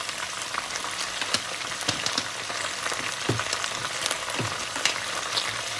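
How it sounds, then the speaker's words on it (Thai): Red fish balls stir-fried with cumin leaves in a hot pan, a constant close sizzle with scattered spatula scrapes and pops at an irregular pace, no talking. "ผัดเลยค่ะทุกคน"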